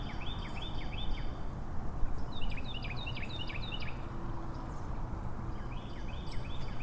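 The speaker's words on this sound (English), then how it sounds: "I hear birds, and that's it." Birds chirp in short, repeated bursts of high twittering calls outdoors near the Donkey Lady Bridge in San Antonio, fairly faint against a low, steady rumble of distant traffic.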